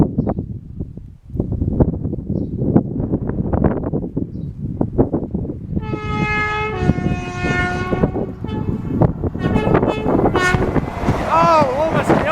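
An LNER Azuma Class 800 train passes at Acklington, a steady loud rumble of wheels on rail throughout, with a bright two-tone horn sounding midway and again near the end.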